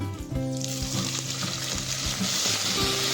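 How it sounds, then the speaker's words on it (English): Bay leaf and cracked green cardamoms sizzle in warm desi ghee in a cooking pan for chicken dum biryani, a loud, close, bubbling hiss that swells after a brief start and keeps going with no talk. "Add your bay leaf and crack green cardamoms"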